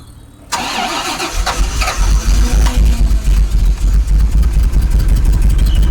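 A cold Rolls-Royce Silver Spirit engine cranks over and catches after a short pause, settling into a loud, steady rumbling idle with uneven low pulses.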